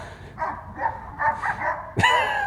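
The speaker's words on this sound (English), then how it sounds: "Neighbor's dogs." Neighbor's dogs bark in several quick yapping bursts at moderate distance, followed by a sharper, louder yelp or whine near the end.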